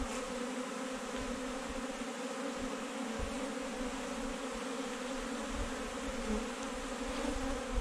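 Honeybees buzz steadily and densely throughout as colonies are merged for winter in a hive, with the queen placed between frames and the bees shaken in. The drone is loud and continuous with no speech.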